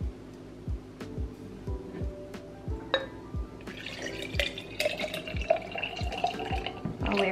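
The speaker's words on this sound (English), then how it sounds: "let's try not to make a mess as we pour this in" A drink, topped with caramel drizzle, being poured over ice into a glass: steady regular drips and liquid trickle, clinks and splashy pouring building toward the end, close and alone.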